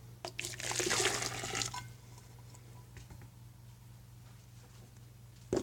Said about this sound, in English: Dump this water out here.